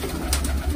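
Pigeons at a rooftop water bowl give a soft, brief coo amid low background hum, close and moderate in level, with no talking.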